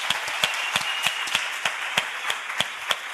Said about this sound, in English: Let's give Tate Joshua a round of applause.